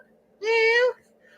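A person's voice imitates a cat with a single drawn-out meow, clear and close, lasting about half a second against faint background hum.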